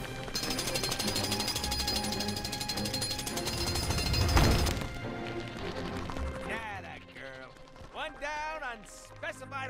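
Doris the drill, a jackhammer-style drill in LEGO Marvel's Avengers, hammers loudly and steadily at piles of debris at the S.H.I.E.L.D. Base for about four seconds, ending in a crash, then game speech follows.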